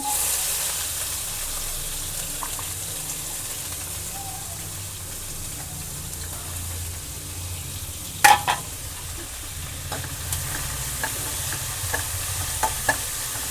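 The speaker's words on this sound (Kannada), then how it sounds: "ಚೆನ್ನಾಗಿ ಫ್ರೈ ಆಗಬೇಕು ಈರುಳ್ಳಿ ಮೀಡಿಯಮ್ ಫ್ಲೇಮಲ್ಲೇ ಇಟ್ಟಿರೋದು" Onions and curry leaves fry on medium flame, giving a steady low sizzle throughout, with a few light clinks and stirring scrapes around the middle and toward the end.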